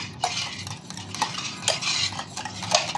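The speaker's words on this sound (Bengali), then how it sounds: "চিনিটার সাথে ডিমটাকে ভালো করে মিক্স করতে হবে, যেন চিনিটা একদম দানা দানা না থাকে" Eggs and sugar being whisked together in a bowl for a sherbet: a steady run of quick metallic clinks and scraping strokes against the bowl, close and continuous, with no talking.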